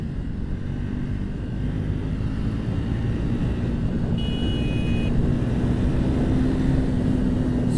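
A Triumph Speed 400 motorcycle engine pulls steadily in fourth gear, a constant loud drone with wind rush throughout and no break.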